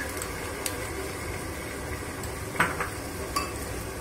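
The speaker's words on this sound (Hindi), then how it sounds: "अब हम इसको अच्छे से चिकन में मिक्स कर देंगे" A spoon scraping and clinking against a pan while onion and cashew-makhana paste is stirred into chicken for a restaurant-style chicken masala; a few sharp knocks stand out over a low sizzle, with no talking.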